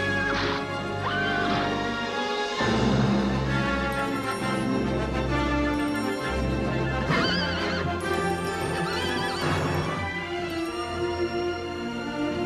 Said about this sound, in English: So I felt that we could get away with having a bucking bronco effect when Perseus first jumps on his back and takes him off into the air.